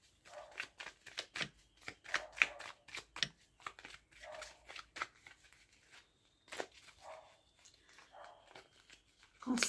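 Tarot cards being shuffled and drawn make quiet, close, irregular bursts of riffling, flicking and snapping, separated by short pauses.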